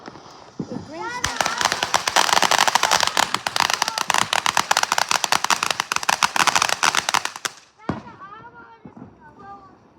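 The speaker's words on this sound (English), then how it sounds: "What are these fireworks doing, Kevin?" Fourth of July fireworks, including illegal aerial shells, burst in a dense rapid barrage of loud cracks and pops for several seconds, then stop abruptly before one last bang; voices talk before and after.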